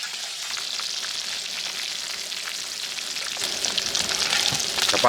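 Khoyra fish frying in spice masala over a wood-fired clay stove outdoors beside a riverbank char, a steady close crackling sizzle that swells louder toward the end, with no voices.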